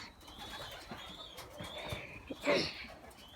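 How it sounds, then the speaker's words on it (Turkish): Released domestic pigeons coo and flutter outdoors in short, faint calls, with one louder coo near the end over quiet ambient noise. "Evet arkadaşlar kuşlarımız böyle."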